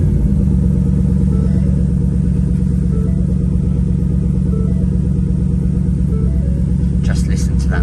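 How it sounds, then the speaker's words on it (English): Ford Mustang 5.0 V8 GT idling after start-up, a deep, steady close-up rumble that holds throughout, with a faint chime near the end. "Right, let's start her up."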